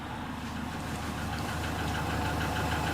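A camper van engine runs steadily at idle after being revved to 3,000 rpm during an MOT check, with a close, continuous low rumble and a faint knocking pulse.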